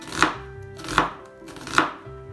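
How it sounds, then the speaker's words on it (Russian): A knife finely chops onion on a board with three distinct, evenly spaced thuds, close and clear, with nothing else heard. "Очень мелко нарезаем лук. Сначала соломкой мелкой, а потом мелким кубиком."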